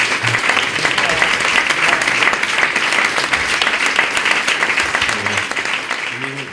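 Loud, dense audience applause for a singer at a wine-tasting concert, a steady wash of clapping that holds for several seconds and thins slightly toward the end.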